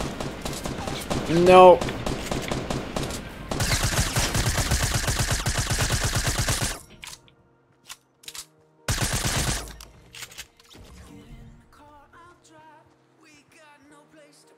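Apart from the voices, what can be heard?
gunfire in the video game Fortnite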